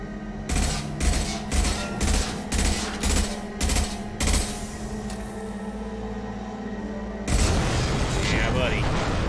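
Gunfire in the video game Mass Effect 2 during the Archangel mission: a rhythmic run of about eight loud evenly spaced shots, then a pause and a denser burst near the end, with voices heard around them.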